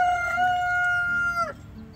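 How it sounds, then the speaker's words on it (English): A rooster crows once inside a homestead chicken coop, a loud close sustained call that breaks off sharply near the end, followed by faint low clucking from the flock. "Here are the chickens on the inside, ready to come out."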